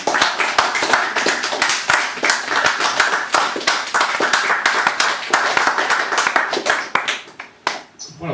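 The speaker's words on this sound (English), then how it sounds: "So more applause, please, for Lisa Kelly." After a poetry set, a small audience claps in close, lively applause whose sharp individual claps carry through, then thins out to a few scattered claps near the end.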